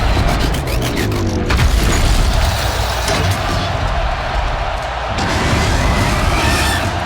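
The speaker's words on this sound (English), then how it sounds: "One more pillar and that platform will come down." Platform crashing down after a pillar is destroyed in the video game Horizon Zero Dawn: a loud, rumbling collapse with booms and crashing debris, heavy and continuous over a dense game soundscape.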